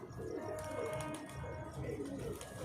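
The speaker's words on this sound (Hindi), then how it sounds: "है ये कबूतर है भाई।" A pigeon coos in soft repeated rolling phrases, close by, over a constant low background hum.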